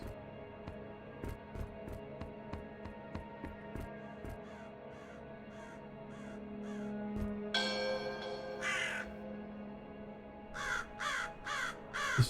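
Crows caw repeatedly in a PC puzzle game, a series of harsh calls at a fairly steady pace, with later bursts louder and closer amid a soft ambient hum and a brief chiming tone.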